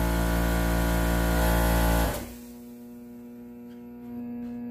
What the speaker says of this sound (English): You know, it's making a humming noise